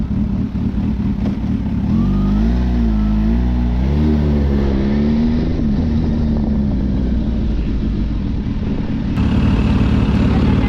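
A Kawasaki H2 SX big sport-touring motorcycle engine revs loudly up close, its pitch climbing and wavering in repeated surges while carrying a rider and passenger, with a steady roar throughout.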